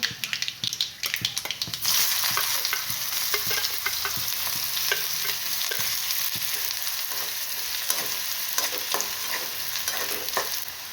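Mustard seeds splutter and crackle in hot oil for a Marathi vegetable tempering, a dense, loud, steady popping sizzle after a brief quieter start, with sharper pops scattered throughout and no voices.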